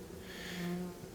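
Honeybees from a package being lowered into a hive give off a faint, steady buzzing drone over about a second, with a low hum underneath and no voices.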